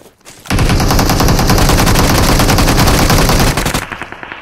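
Sustained rapid automatic gunfire in PUBG Mobile, a dense, loud, close burst of rattling shots lasting about three seconds, then a few trailing shots that fade into quiet.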